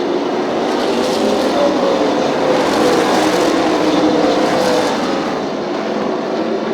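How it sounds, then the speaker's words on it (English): A race car engine roars continuously at a distance, its pitch rising and falling as it works through turns, with crackling pops under the steady drone. "You can just hear that car popping through the turns."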